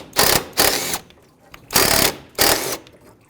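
A ratchet loosens 13mm bolts on a 2012-2020 Nissan Pathfinder during alternator replacement, four close bursts of rapid clicking separated by brief pauses, with no talk.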